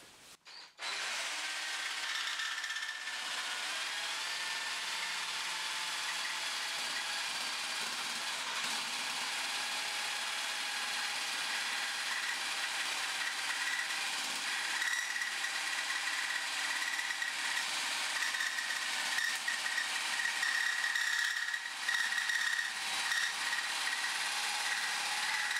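A power tool cutting acrylic sheet too fast gives a steady, loud, continuous rasping whine that runs without a break from start to finish and has no voices over it.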